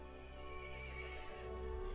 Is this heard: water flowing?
no